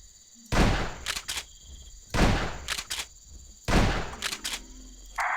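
A shotgun in a dinosaur-hunting video game fires three heavy, booming blasts at regular intervals. Each shot is followed by a couple of quick mechanical clacks, loud and close over a steady game ambience.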